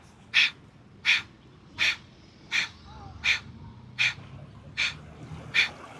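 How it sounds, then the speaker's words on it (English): Rapid, forceful yoga breath of fire on a beach: eight sharp, even nasal exhalations in a regular rhythm, close and clear over a low rumble in the background. "We're going to be here with that breath of fire"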